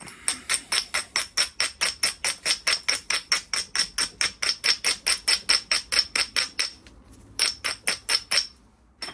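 Edge of a flint biface being ground at the platform: a fast, even series of about thirty sharp scraping strokes, close and loud, with a short pause before a final burst.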